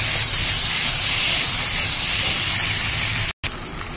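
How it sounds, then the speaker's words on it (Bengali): Semolina and taro sizzling as they are sautéed in a pan, a steady loud hiss that runs throughout and breaks off for a moment near the end. "সুজিটাকে ভালো করে একটু কষিয়ে নেই"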